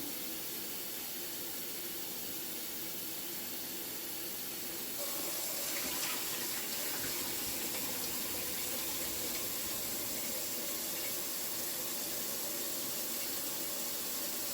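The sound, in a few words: rinsing red beans under running water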